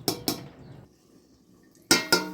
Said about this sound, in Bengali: আমি আর একবার এটাকে ঢাকা দিয়ে দেবো আর একটু খানিক্ষণ ফুটবে